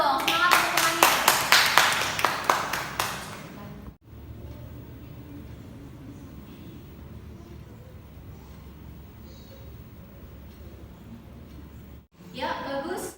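A class of students claps rhythmically in a classroom, loud and close for about four seconds, followed by a quiet room murmur, then another short burst of clapping at the end; a teacher's voice is heard.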